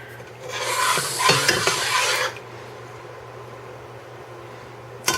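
Milk and vermicelli being stirred in a pot for sheer khurma, a close scraping swirl lasting about two seconds before falling to quiet, with a low steady hum beneath.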